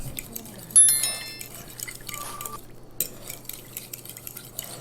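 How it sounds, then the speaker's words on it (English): Fork stirring brown sugar into butter in a bowl for keto pecan bars, soft scraping and clinking strokes with a brief louder knock near the start, close and fairly quiet throughout. "So I'm going to just mix this up good, kind of get it going, and make sure that that brown sugar blends very nice with the butter"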